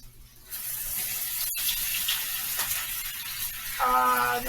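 Water from a cooking pot of boiled Brussels sprouts is poured off with a steady splashing rush into a sink, starting after a brief pause and running on, with a faint tonal clatter near the end.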